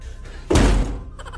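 A single heavy thud as a person bumps into a wooden door, one loud low impact at mid-clip with faint rattling after, then quiet.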